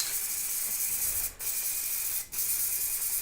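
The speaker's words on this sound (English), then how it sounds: "Little spray." A spray can of pink paint hisses onto a sea-foam model diorama in two long, continuous bursts with brief pauses between, close and steady with no talking.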